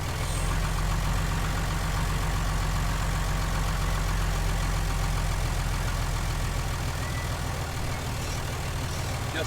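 A wheel loader's engine runs steadily at a low rumbling idle throughout, loud and close, with no speech over it.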